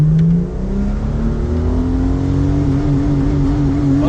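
A Ford AU Falcon engine, set up as a drift car, revs loud and close, holding a high steady drone with rising harmonics as it climbs toward the rev limiter, heard alone without talk.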